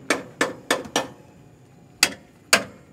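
A mallet strikes a stuck car wheel in sharp, loud blows: four evenly spaced hits in quick succession, a pause, then two more spaced hits, with no talking.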